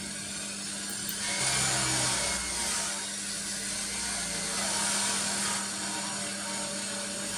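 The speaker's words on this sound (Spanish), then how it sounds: "Le doy una pulida suave con el disco de algodón para sacar brillo." Metal being polished to a shine with a soft cotton buffing disc and fine metal polish, a steady high whine with a constant motor hum underneath, continuous and fairly close with no talking.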